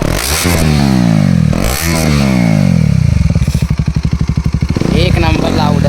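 KTM Duke 250 motorcycle with its exhaust removed, revving hard in loud, raw bursts: two sharp throttle blips rise and fall, then a rapid, popping idle burble, close and unmuffled.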